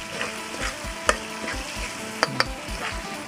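Duck skin fries in a pot filled with oil for a duck larb dish. The oil sizzles and crackles continuously up close, with a few sharp pops and the occasional clink of a utensil stirring.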